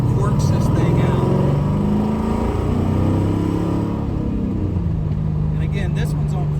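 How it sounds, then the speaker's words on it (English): An LS-swapped car engine idles steadily with a Varex exhaust valve set to quiet mode, a close, continuous low rumble where the engine is heard more than the exhaust, with someone talking over it. "this one's on quiet mode, which you can hear the engine, I think, more than the exhaust"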